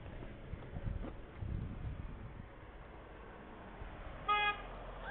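Car horn honks one short toot at a roadside sign reading honk if gay, preceded by soft passing traffic and faint thumps, fairly distant and quiet.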